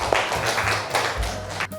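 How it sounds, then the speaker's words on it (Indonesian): Students in a classroom break into a burst of applause, several rapid overlapping claps close by that rise and fall over a couple of seconds, with a few voices mixed in. "Yuk, tepuk tangan untuk kalian semua."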